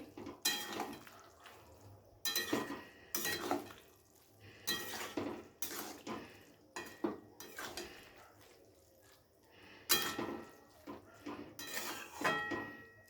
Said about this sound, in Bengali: তো পনিরটা দিয়ে খুব ভালো করে সবজির সাথে মিশিয়ে নিচ্ছি।